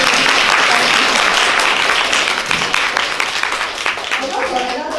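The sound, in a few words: audience clapping for a guest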